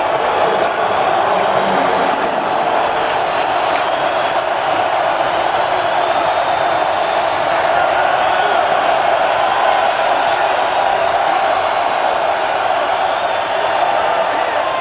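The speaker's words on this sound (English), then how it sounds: "this crowd here at Gillette Stadium just ready to explode" Crowd at Gillette Stadium for an NFL playoff game, a dense, loud roar of thousands of fans that holds steady throughout, with commentary voices faint beneath it.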